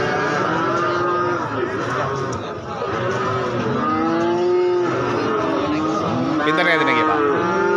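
Several cattle moo repeatedly, some calls close and loud, among traders at the Kuranggareng livestock market in Magetan, with people talking throughout.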